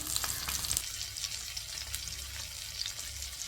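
Fish wrapped in banana leaf fries in a pan with a steady, crackling sizzle, fairly quiet and close, with small pops scattered throughout and no talking.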